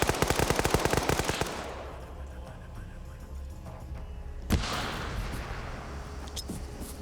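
Machine gun fire in a multiplayer military shooter game opens with a rapid, loud burst of rounds lasting about a second and a half, then fades into quieter ambient battle noise with a single sharp shot later.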